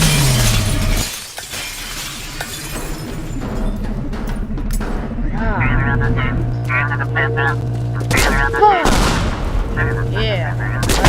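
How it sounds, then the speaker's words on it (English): In the video game Teardown, a charge shotgun fires amid loud blasts and shattering debris, with sharp booms and crackling destruction layered over sustained tonal effects, while a person speaks intermittently over the sounds. "Alright, let's use a charge shotgun."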